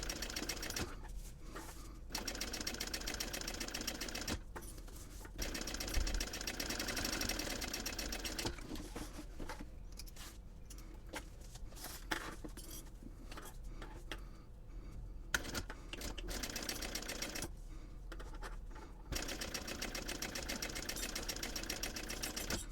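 A sewing machine top stitches across the top of a small purse, running in steady mechanical bursts with short pauses between them, close and fairly loud with no talking.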